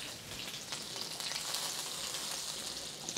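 Unsalted butter melting in a pan on low heat, giving a soft continuous sizzle and crackle with faint pops, close and fairly quiet, no talking.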